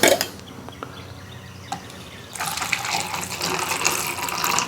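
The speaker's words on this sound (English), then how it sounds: "All right, so let's pour us a sample." Sugar-free moonshine poured cold from a container into a glass, a steady liquid stream that starts after a couple of seconds of quiet and continues close up and alone to the end.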